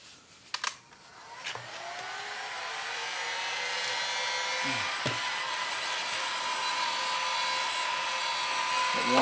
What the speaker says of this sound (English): Heat gun worked well before.